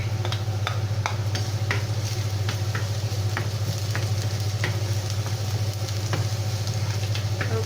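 Garlic sizzles in a hot oiled pan for a pork and vegetable empanada filling, a steady close frying crackle with scattered pops and light stirring, no voices.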